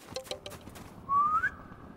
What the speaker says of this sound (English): Now approach the nest and whistle.